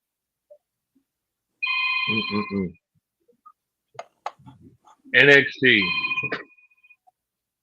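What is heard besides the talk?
telephone ringing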